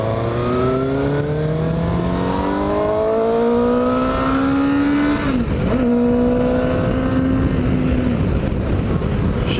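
A Suzuki GSX-S750 motorcycle accelerates hard through the gears, its engine note climbing, dropping at a shift and climbing again, loud and close with steady wind rush throughout.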